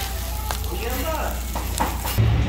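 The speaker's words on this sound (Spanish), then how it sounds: "miren cómo se escucha que chilla ahí la grasita de la misma carnita" Fat from birria meat sizzles and spits steadily on a hot cooking surface at a taco stand, a close, continuous crackle with a few stirring scrapes and a brief voice in the background.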